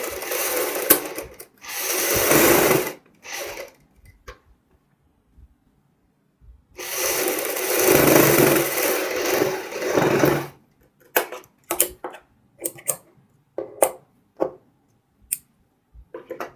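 Sewing machine stitching the shoulder seam of a suit: two sustained, close, whirring runs of steady rapid stitching, the second lasting about four seconds, separated by pauses with clicks, fabric handling and short bursts of the motor.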